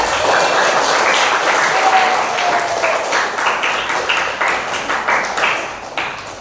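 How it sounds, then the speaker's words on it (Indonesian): Students clapping together in a classroom, a loud burst of applause that gradually thins into scattered claps toward the end. "Sendi, berikan tepuk tangan teman-teman semuanya."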